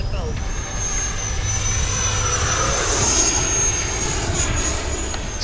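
An FMS Viper 70mm V2 RC trainer jet flies past with a steady, loud whining electric ducted-fan roar that holds throughout, with a high-pitched tone riding on top and a slight swell in the middle.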